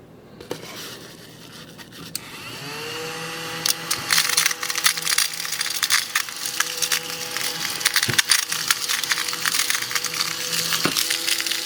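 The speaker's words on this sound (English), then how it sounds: "crush up a hot Cheeto, just to kind of test it out" A Hot Cheeto is crushed into crumbs on a desk, giving a run of dry crunchy crackles and scrapes that grow dense and fairly loud over a steady mechanical hum.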